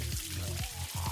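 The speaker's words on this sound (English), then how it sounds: "Now the tap won't turn off." Water runs and splashes from a broken tap that won't shut off, a loud continuous pouring gush with rhythmic surges.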